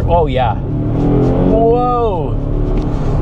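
A 2024 Volvo V60 Polestar Engineered hybrid accelerates hard as its engine cuts in, a steady loud engine drone rising in pitch under a driver's excited exclamations.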